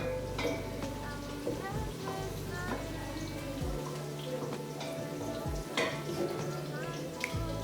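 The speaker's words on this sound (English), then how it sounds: "So my onions are in. I'm going to let them turn to a golden brown." Onions frying in a pan for a Ugandan tomato-and-onion dish in Kampala, a steady close sizzle broken by stirring scrapes and clinks, continuous through the whole stretch with no talk over it.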